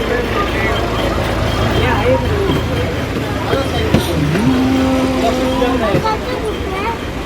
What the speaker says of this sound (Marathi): इथे चिपळूण डेपोतून गाडी निघालेली आहे गाडीतला प्रवास चालू झालेला आहे